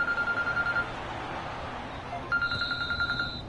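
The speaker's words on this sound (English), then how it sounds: "Hold on, my phone again." A phone rings during a PS4 football game stream, two bursts of repeated trilling rings near and clear over low game sound, with a pause between them.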